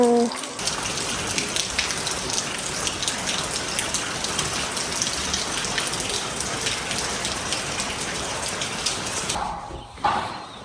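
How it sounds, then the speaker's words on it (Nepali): Rain falls steadily in the countryside of Solukhumbu, a close, continuous patter of drops. It cuts off abruptly near the end, where a few brief tones are heard. "पानी परिरहेको छ यहाँ"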